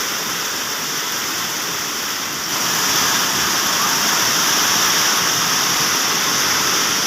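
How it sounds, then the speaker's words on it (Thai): Dense, steady hiss of heavy rain mixed with rushing water, loud and close throughout, growing slightly fuller partway through. "ตอนนี้ก็เบิ่งวิวทัศน์ตอนฝนตกไปก่อนตอนน้ำไหล"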